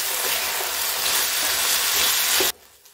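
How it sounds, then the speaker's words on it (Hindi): Khichdi ingredients with peas roast in a pan with a close, steady sizzle and stirring scrapes, loud and continuous until it cuts off sharply near the end, without speech. "अब इसकी सारी सामग्री को पाँच मिनट तक भून लेते हैं अच्छे से"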